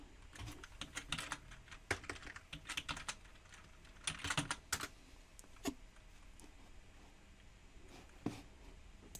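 Rapid bursts of typing on a computer keyboard while entering a function into the Desmos graphing calculator, quiet and close, with irregular clusters of keystrokes and short pauses between them.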